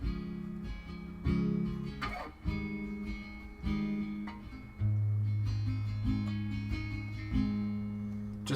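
An acoustic guitar plays a song with a capo, alternating a plucked bass note with strummed chords in a steady rhythm, close and clear with no talking.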